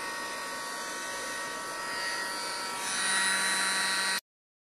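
A heat tool warms alcohol ink on vellum paper, giving a steady electric whine and fan hum that grows slightly louder near the end and then cuts off abruptly.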